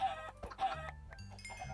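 Minecraft chickens in Sky Factory 3 cluck in short, close bursts against a layered background of game sounds, with no voices.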